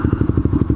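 Honda Grom motorcycle fitted with an AR exhaust, a loud close-range idle with a rapid, choppy low thump that pulses steadily under a rasping edge.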